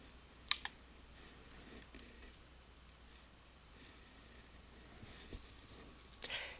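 Faint computer mouse clicks in software: a few sharp isolated clicks, scattered and quiet, over a low steady room hiss with no talk.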